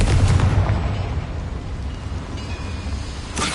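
Loud booming blast from a fire spell in Hogwarts Legacy, a heavy low explosion up front that lingers as a rumbling tail inside a mine, with another sharp burst near the end and no speech.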